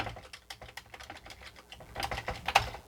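Keys are pressed one after another on a Commodore 64 keyboard under repair for a vertical-lines fault, a string of close, plasticky clicks and thumps that grows denser and louder toward the end, with no talking.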